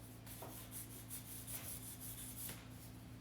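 A silver ring made from a silver round is rubbed against fine grit sandpaper, giving soft repeated scraping strokes that sound close and fairly quiet over a steady background hum.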